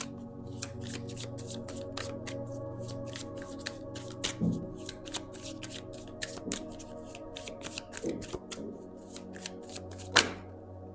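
Tarot cards being shuffled and flipped during a live reading, a close, quiet run of rapid papery riffles and snaps, with a few louder flips and taps near the end and no speech.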